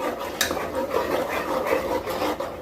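Butter melting in a pan over high heat to make ghee is stirred continuously, giving a soft, close scraping and shuffling texture with faint sizzle that stays even and unbroken.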